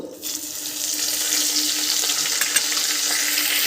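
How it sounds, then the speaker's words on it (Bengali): Panch phoron spices drop into hot oil for a chana paneer dish and break into a sudden, loud sizzle that swells and then stays steady, with no talking. "এবার দিয়ে দেবো ফ্রন"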